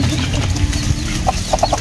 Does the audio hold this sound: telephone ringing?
no